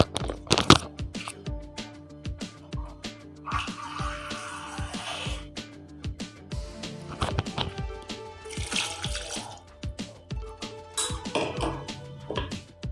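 Half a cup of water is poured into a cooking pan with tomatoes for a chicken gizzard dish, splashing amid clinks and clatter of the pot and utensils.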